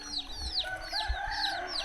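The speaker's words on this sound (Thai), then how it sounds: "โอ้ไก่" Chickens in a Dak Kang tribal village cluck and call in repeated short bursts close by, with a faint crow-like note and outdoor background hum, no talking.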